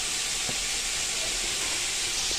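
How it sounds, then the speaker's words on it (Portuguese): Green, yellow and red bell peppers frying with bacon and onion in a pan, giving a loud, steady, close sizzle and hiss throughout, with a few faint pops and no talking. "Você vai colocar o pimentão pra poder fritar junto com o bacon e a cebola"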